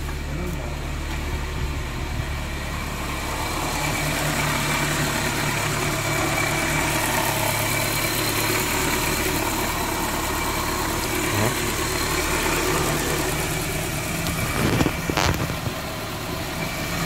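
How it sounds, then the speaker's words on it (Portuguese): A supercharged Suzuki Jimny Sierra engine idles steadily and close by, a constant low mechanical hum with faint vibration, running smoothly with no talking over it. "O carro funcionando perfeitinho."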